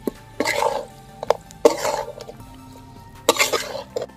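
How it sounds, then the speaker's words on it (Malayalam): A spoon scrapes and stirs chettinad chicken curry in a pan in three or four separate bursts of clinking and scraping, with short quiet gaps between the strokes. "നന്നായിട്ടൊന്ന് മിക്സ് ചെയ്ത് കൊടുക്കാം."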